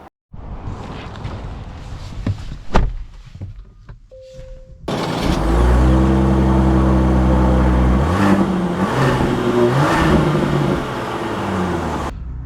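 A 2025 Genesis GV80 Coupe starts with quiet cabin sounds and a short electronic beep, then its engine swells into a loud, rising drone as it pulls away and accelerates.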